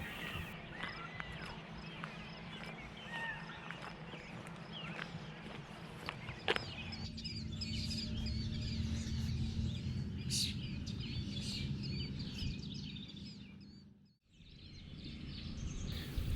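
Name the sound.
birds singing in cottonwood trees by Harlan Lake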